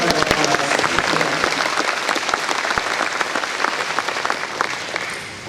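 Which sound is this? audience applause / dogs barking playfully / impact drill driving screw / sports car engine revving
audience applause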